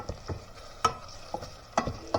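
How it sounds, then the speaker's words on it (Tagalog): Food being sautéed and stirred in a home kitchen pan, with soft scraping strokes and a few sharper utensil knocks against the pan, quiet and close, with no talking. "Igisa natin."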